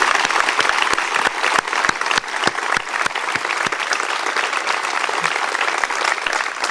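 Steady audience applause during a religious talk, dense clapping with some sharp individual claps standing out, continuing evenly throughout.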